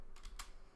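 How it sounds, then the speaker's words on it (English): A few quick, soft keystrokes on a computer keyboard, three faint clicks in a brief burst alone at close range. "If I type Dmenu run, and I can type surf"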